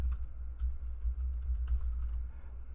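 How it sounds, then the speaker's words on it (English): Light, scattered keystrokes on a computer keyboard while logging into a game account, quiet irregular clicks over a steady low hum from the room or computer. "Let's try typing it correctly."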